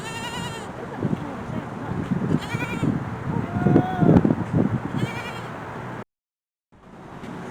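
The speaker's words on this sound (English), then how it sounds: "little goats" Little goats visiting a nursing home with veterans bleat several times in high, wavering cries, close by and mixed in among people talking, before a brief drop to silence.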